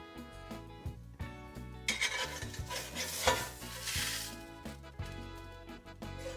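Seasoned blackened fish pieces fry in a hot pan, giving a loud sizzle with scraping and stirring under a backing of steady music, and no one speaks.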